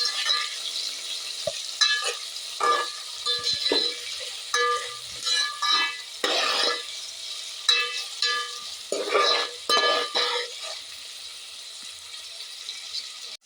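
Vegetables sautéed and stirred in a pan for vegetable biryani, with steady frying sizzle and repeated scraping stirs at close range, no talk.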